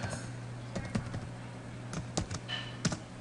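Close, quiet keystrokes on a computer keyboard while entering text into Microsoft Excel, short irregular bursts of taps over a low steady hum, with no voice.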